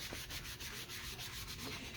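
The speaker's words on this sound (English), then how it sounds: "So I'm just put it on, I'm just kind of buffing it out here." Steady cloth buffing of wax across a wood surface, a continuous close, soft rubbing hiss with faint rhythmic strokes and no talk.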